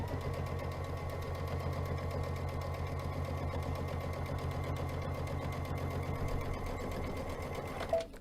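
An embroidery sewing machine stitches steadily, a fast even whirring and clatter that runs loud and continuous before stopping abruptly at the end.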